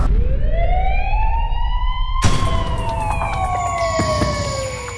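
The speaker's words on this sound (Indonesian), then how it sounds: "Sirene pun dinyalakan sebagai tanda ada peristiwa yang harus segera ditangani." A light rescue unit's siren winds up and wails loudly and close, its pitch sliding, then a second siren tone cuts in over it.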